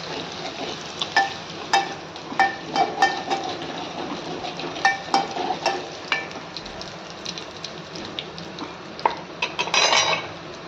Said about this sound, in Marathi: बारीक केलेलं लसूण आणि हिरव्या मिरचीचा ठेचा टाकून घ्यायचा